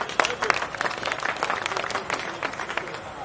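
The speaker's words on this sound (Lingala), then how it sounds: "Acclamez pour la moko." A crowd breaks into applause, thick rapid clapping at moderate loudness with voices mixed in, sustained for a few seconds.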